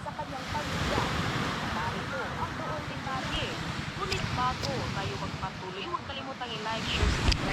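Wind and lapping waves on a lake shore, a continuous rough rush with heavy wind buffeting the microphone, and people talking faintly over it.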